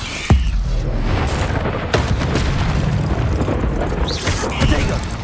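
A Confringo blast spell fires during Hogwarts Legacy gameplay, landing as sharp explosive bursts over dense, continuous rumbling combat noise.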